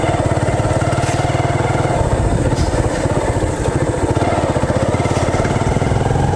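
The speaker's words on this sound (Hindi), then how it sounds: "गड्ढे में बाइक फंस गई" A motorcycle engine runs steadily and loud throughout while the bike is stuck in a deep pothole on a rough jungle track, its low, dense chugging holding with slight revving swells and no voices.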